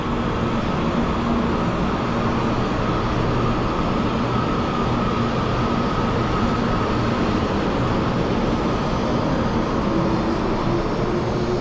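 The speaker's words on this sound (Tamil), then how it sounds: "bye bye high speed train" A high-speed train pulls out of a station in Taiwan, a loud, continuous rumbling roar with steady droning tones, sustained throughout with no break and no one speaking.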